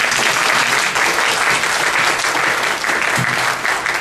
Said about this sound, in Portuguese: Vai dar uma salva de palmas